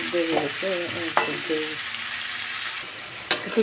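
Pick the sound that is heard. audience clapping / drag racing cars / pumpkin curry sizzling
pumpkin curry sizzling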